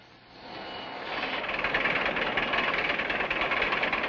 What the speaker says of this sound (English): The log moves back and forth on that cradle. Then the saw cuts it into boards.